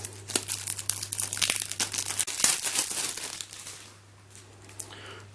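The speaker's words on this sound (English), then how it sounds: "so this is in a plastic wrap as well." Close crinkling and rustling of plastic wrap being pulled off, busy crackles for a few seconds that taper into quieter handling.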